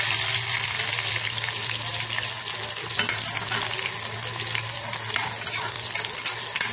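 Onions frying in oil in a kadai with panch phoron and dried chilli, a steady close hiss and sizzle with faint stirring scrapes throughout.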